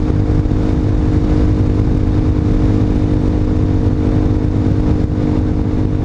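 A Honda Hawk 250 motorcycle engine pulls steadily uphill in fourth gear at around 6,000 RPM and 45 mph, a constant loud mid-pitched drone with wind rumble throughout.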